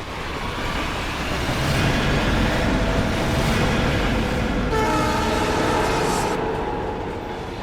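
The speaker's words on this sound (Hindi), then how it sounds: "ट्रेन स्पीड पकड़ चुकी है।" A train picking up speed at a railway station, a loud continuous rumble of wheels and carriages that swells and then slowly eases, with a faint horn-like tone partway through.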